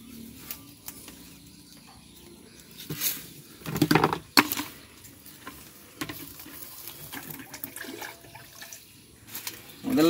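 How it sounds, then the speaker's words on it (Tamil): Water is poured from a bucket into a farm sprayer while fish amino acid fertilizer is mixed for banana plants. The pour comes as a couple of short, splashy gushes amid quieter handling noise. "ஸ்ப்ரேயருக்கு முதல்ல ஒரு வாளி தண்ணி ஊற்றிக்கிறோம்"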